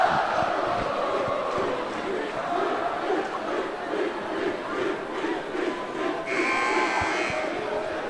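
Rival fan sections at a high school basketball sectional game keep up a dense, continuous roar of crowd chanting and shouting, steady and loud throughout, with a brighter surge near the end.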